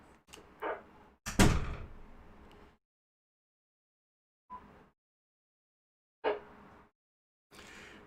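A door thuds shut indoors with a loud bang and a short rattle. Fainter knocks and rustles follow, separated by silent gaps.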